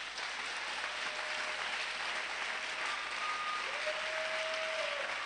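Congregation at a church service applauding, steady continuous clapping throughout, dense and even, with no talk over it.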